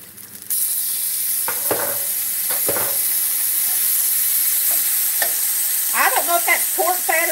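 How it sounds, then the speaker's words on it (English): Gravy cooking in a skillet of leftover beef fat after frying steak gives a steady sizzling hiss throughout, with scraping stirs and a few sharper spoon clinks near the end. "Now we're going to make some gravy in the same skillet"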